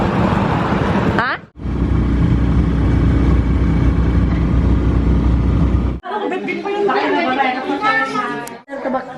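A motorized tricycle engine drones steadily during a ride in the Philippines, heard between stretches of loud family chatter and talk.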